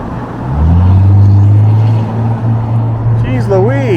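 Cars pass on a road near the Tahoe Rim Trail, a deep engine rumble that swells close by and then fades, with a voice briefly heard at the end.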